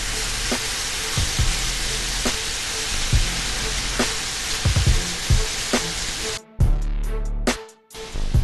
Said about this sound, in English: Just keep sauteing and stirring them until they're tender